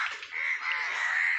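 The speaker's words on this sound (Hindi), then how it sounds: "जो कौवा जो देखिए आ रहे हैं ऊपर में" Harsh, raspy cawing of crows circling overhead at a turkey farm in India, a continuous scratchy call with no talking over it.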